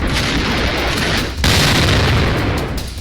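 A loud, sustained factory explosion blast in Harda roars with a sharp second burst midway, dense rumbling energy filling the whole clip with no voices.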